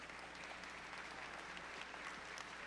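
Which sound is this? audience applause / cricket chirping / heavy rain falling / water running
audience applause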